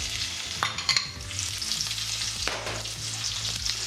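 Garlic and onions sizzle and fry in a pan for tarka dal, a steady crackling hiss with occasional stirring scrapes, close and continuous with no talking.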